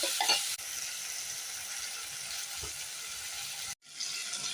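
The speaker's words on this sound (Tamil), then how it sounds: "கத்திரிக்காயை போட்டு நல்லா வதக்கிக்கலாம்." Chopped brinjal sautéing in a pan with tomato, a soft continuous sizzle with light stirring scrapes, fairly quiet, with a brief break near the end.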